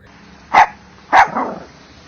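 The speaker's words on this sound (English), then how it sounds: "Little Mimi barked and wagged her tail." A small dog gives two sharp, loud barks about half a second apart, the second trailing into a brief whine, close by with no talk.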